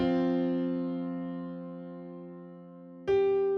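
Piano in FL Keys holds a long decaying chord, then a higher counter-melody note strikes near the end and rings on its own without any voice.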